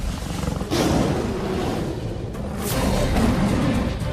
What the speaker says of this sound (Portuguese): O rugido de um leão não é apenas ouvido, ele é sentido também.